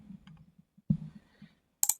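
A computer mouse clicks a few times while uninstalling a program through the Windows start menu, giving short, close, sharp taps, with one louder click near the end in an otherwise quiet room.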